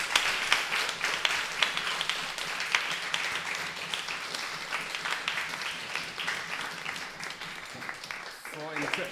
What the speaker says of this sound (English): So a warm applause